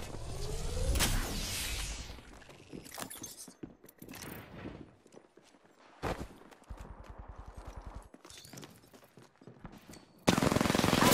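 Gunfire in the Apex Legends video game: loud, close bursts of automatic fire and single sharp shots across the stretch, including a rapid, evenly spaced rattle, ending in a sudden intense burst.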